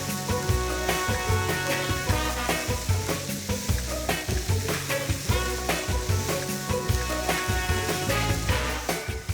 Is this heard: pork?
yes